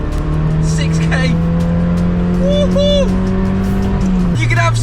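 A Mazda MX5 engine screams at high RPM in a steady loud drone that drops in pitch near the end, with brief voices and faint squeal-like tones over it.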